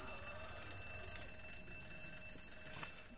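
A supermarket alarm rings in the video game Zombi, a steady electronic tone holding with high bright harmonics above a low rumble, continuous and fairly faint, with no voices over it.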